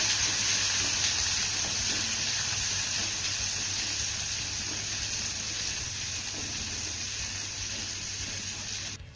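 Garlic, ginger and green chillies sautéing in a pan give off a loud, steady sizzling hiss that holds unbroken for about nine seconds, close by and without voices.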